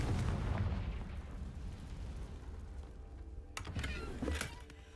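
The Confringo blasting spell in Hogwarts Legacy sets off a fiery explosion: a deep, rumbling boom opens and fades slowly, followed later by a couple of sharper crackling bursts, all fairly quiet.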